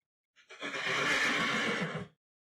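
A horse in the video game Second Life lets out a loud, close whinny, a single drawn-out neigh of nearly two seconds heard clearly on its own.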